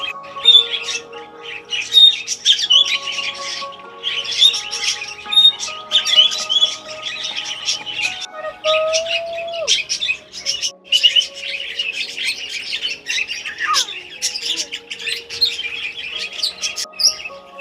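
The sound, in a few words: birds squawking and chirping in a zoo aviary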